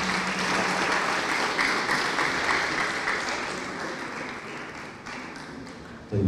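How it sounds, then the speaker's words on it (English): An audience at a students' conference in a Mombasa high school claps steadily for an arriving guest speaker, a dense, sustained applause that thins slightly toward the end. "Can we clap for him as he comes?"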